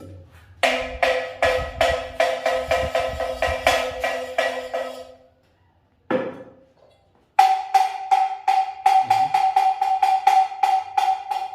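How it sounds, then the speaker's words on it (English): Metal gongs beaten by women in Badagry, Nigeria, struck in a steady rapid rhythm, each ringing hit overlapping the next; a brief pause, then a higher-pitched gong continues the beat. "So why some of the women hold these gongs? Beating it, so we have a different sound"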